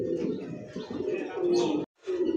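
A black Mondian pigeon coos in low, throaty rolling calls, close and clear, with a short silent break before the cooing resumes.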